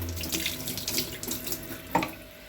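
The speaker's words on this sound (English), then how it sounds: "So I'm just gonna use this wooden spoon, rinse it out a little bit quickly," Tap water runs steadily over a wooden spoon being rinsed under a faucet, a close, continuous splashing with a brief louder knock near the end.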